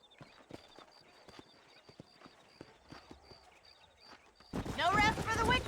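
Horse hooves clip-clop steadily in the Red Dead Redemption western game: a faint, even patter of hoofbeats with a quiet steady tone over it, before a louder burst of voice or noise takes over near the end.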